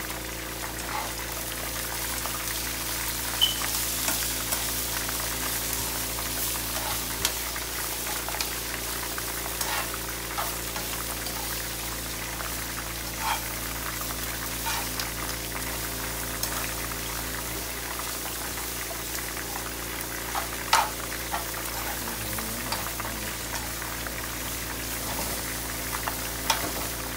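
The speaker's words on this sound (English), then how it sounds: "Our fish is frying away deliciously." Red snapper frying in oil sizzles and crackles steadily for a long stretch, with no voices. The sound is soft and even, with occasional louder pops.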